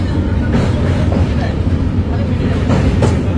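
Loud continuous rumble of a train running on rails near Kharagpur, with faint rhythmic clacks, heard from inside a carriage.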